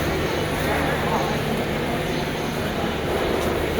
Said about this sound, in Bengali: যার যার গন্তব্যে যাওয়ার জন্য সবাই ভিড় জমাচ্ছেন এই প্ল্যাটফর্মে কমলাপুরের